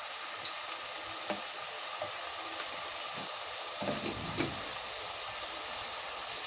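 Food frying in oil in a pan with a pinch of salt, a steady bright sizzle throughout, with a few soft clinks and a brief stirring rustle near the middle.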